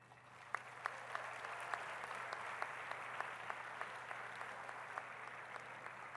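Sustained applause from a convocation crowd fills the hall, a steady wash of many hands clapping with occasional sharper individual claps, fairly even in loudness throughout with no talk over it.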